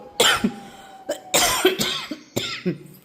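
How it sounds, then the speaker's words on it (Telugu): A person coughs several times in quick harsh bursts, with brief pauses between them, close to the listener. "ఇంకా కొంచెం కాఫ్ అయితే వస్తుంది"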